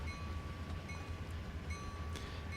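A locomotive runs on rails in the Trainz 2019 train simulator, heard from the cab as a steady low rumble and rolling drone with a faint high tone, continuous and unbroken.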